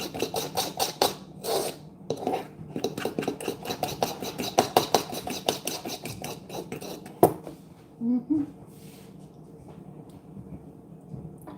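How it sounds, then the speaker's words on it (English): A spoon scrapes and clinks rhythmically against a pan while milk is stirred, quick repeated metallic strokes up close that stop abruptly, followed by a couple of faint knocks and quiet. "I'm over here stirring the milk"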